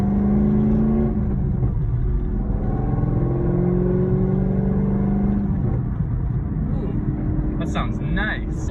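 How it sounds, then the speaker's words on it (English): A Chevrolet C5 Corvette V8 fitted with long tube headers pulls hard under load on a not fully warmed engine. The exhaust note rises loud and raspy as revs climb, then a higher whine cuts in near the end. "let's do a little pull here and see how the exhaust sounds"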